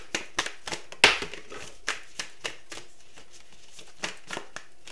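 A deck of oracle or tarot cards is shuffled by hand in a series of soft, irregular riffles and taps, close and fairly quiet, with one louder snap early on.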